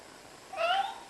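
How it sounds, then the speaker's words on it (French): A single short, high kitten meow comes through close and clear over a light hiss of room noise in a family home. "Oui, c'est mon bébé chat."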